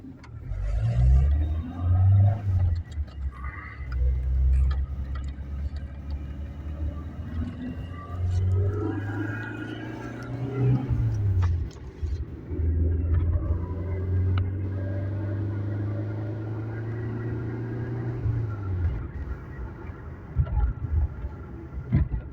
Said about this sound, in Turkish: Onun haricinde aracımızı tekrar tersle devam ediyoruz.